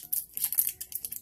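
Packaging crinkles and rustles as a makeup brush from Crown is unwrapped, a series of close, crisp crackles coming in short irregular bursts with no talking.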